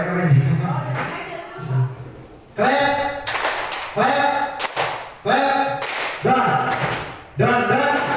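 A group claps hands in a repeating pattern of sharp, loud claps, with quieter thumps like stomps or pats between the bursts, at a school culture session; no one speaks.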